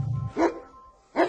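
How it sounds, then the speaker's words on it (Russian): A dog barks twice from inside a wooden doghouse, short muffled woofs about a second apart, close and fairly loud. "Собака там внутри."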